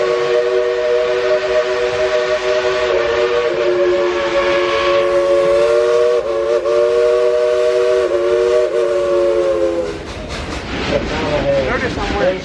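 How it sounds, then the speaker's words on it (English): A steam train at Dollywood sounds a long, loud, steady whistle for about ten seconds, close by, over rumbling train noise before it cuts off. "This train actually emits ambers, you know, real ambers."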